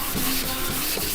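A sanding block rubbed by hand across a Peugeot 206 GT S16 body panel, a steady close scraping hiss with faint rhythmic strokes, brief and continuous.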